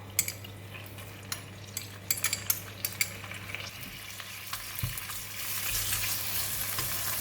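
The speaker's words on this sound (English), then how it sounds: "Now I switch on the heat again, and this time we're going to cook the pork" Minced pork for bak chor mee hits a hot pan after a run of spatula clicks and metal taps, building into a rising steady sizzle near the end, with no one talking.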